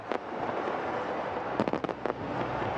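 Fireworks go off at a cricket match, with several sharp pops and crackles over a loud, steady crowd roar, a lone burst first and then a tight cluster of bangs.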